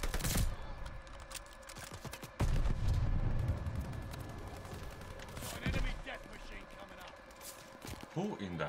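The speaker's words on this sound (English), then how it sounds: "Who in the hell is shooting?" Gunfire in Call of Duty Vanguard multiplayer: dense bursts of rapid shots and heavy booms that overlap and swell, loud and close, amid a busy battle din.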